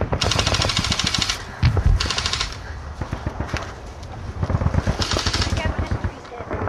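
Bursts of rapid automatic gunfire crackle in short volleys, some near and loud, others thinner and further off, with a voice speaking between the bursts.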